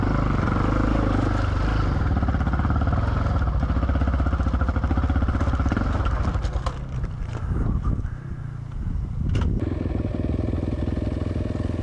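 A motorcycle climbing a narrow, rocky riverbed track, engine revving loudly and unevenly with rattling clatter as it bumps over big rocks, dropping and surging near the end.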